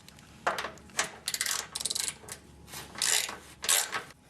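A ratchet wrench is removing 10mm bolts from a bracket on a Nissan 240SX S13 with a KA24DE engine. It gives several short bursts of rapid clicking, separated by brief pauses, close up and fairly quiet.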